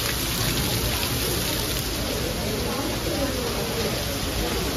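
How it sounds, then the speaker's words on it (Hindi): Heavy rain mixed with hail pours down at Qutub Minar in Delhi, a loud, steady, dense hiss that runs without a break throughout. "बारिश बहुत तेज़ हो रही है"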